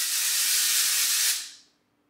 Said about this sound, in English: take the Living Proof Dry Volume Spray and spray it